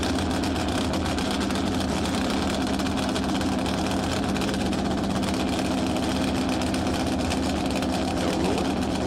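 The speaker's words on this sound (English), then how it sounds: "Small block is sounding nice down there." Small-block V8 race car engine idling on El Mirage dry lake, a steady low rumble that stays at a constant level the whole time, somewhat distant and mixed with open-air background noise.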